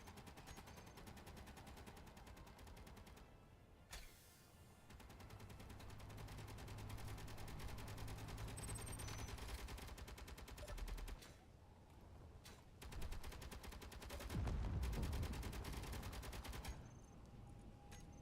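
Rapid automatic gunfire from the video game Space Engineers rattles in long sustained bursts, loud and dense, with brief pauses and overlapping shots from several weapons.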